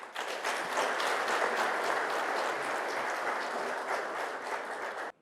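A conference audience gives a dense, even round of applause for an invited professor, holding steady for several seconds before cutting off abruptly.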